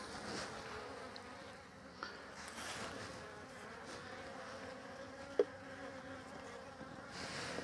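Honey bees buzzing around an open hive during an inspection, a faint, steady droning hum close by with a brief knock partway through.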